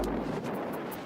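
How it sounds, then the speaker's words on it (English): Strong wind buffets the microphone on the hilltop at Glastonbury, a steady low roaring rush with gusty swells, close and loud, with no voices. "the wind is blowing up here like it's going out of fashion"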